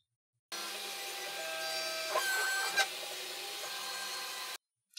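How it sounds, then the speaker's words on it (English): A CNC router cuts the contour of a guitar neck, a steady broadband machining whine with tonal spindle lines that holds at an even level for about four seconds, with a couple of brief louder bumps, then stops abruptly. "Then I'll machine this little contour,"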